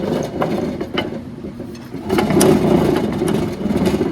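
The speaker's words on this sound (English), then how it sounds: "I'm getting a lot of bearing noise." The crank of an Arctic Cat P12 Panther snowmobile engine with failing bearings, spun by hand, gives a loud rough grinding, ratcheting noise with irregular clicks, close up, growing heavier midway through.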